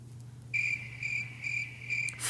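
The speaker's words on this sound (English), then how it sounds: "Fucking crickets, man." Crickets chirping in short, regular bursts of shrill trilling, four pulses over a low steady hum, fairly close with no voices.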